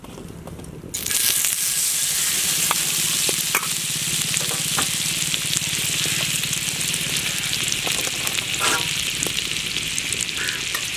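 Chicken legs fry steadily in hot oil over a village cooking fire, giving a loud, continuous sizzle that starts abruptly and carries on close by, with occasional pops and crackles.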